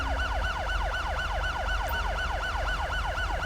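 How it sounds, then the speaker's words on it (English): Rapid yelping police siren in the LSPDFR mod of GTA V, sweeping up and down in fast regular cycles, loud and continuous over a low engine rumble, with no one speaking. "I really wish that officer would turn his siren off."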